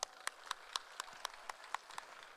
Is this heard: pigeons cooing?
no